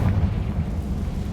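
The Confringo fire spell in Hogwarts Legacy goes off as a brief, booming blast, a deep rumbling burst that fills the moment and fades without a clean tail.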